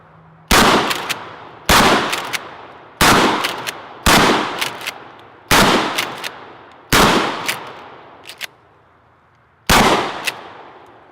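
Seven loud, close shotgun blasts from a Mossberg 500 loaded with double-aught buckshot and one birdshot round, fired at a steady pace about a second and a half apart, each with a sharp crack and a ringing outdoor tail.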